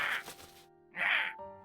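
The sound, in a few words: person imitating a crow cawing, video game voice acting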